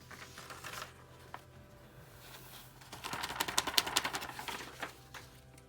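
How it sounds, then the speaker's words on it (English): Excess embossing powder is tapped off a paper die cut, a quiet run of light rapid taps and patter growing busier midway, close and faint with no talk. "Tap the excess off lightly."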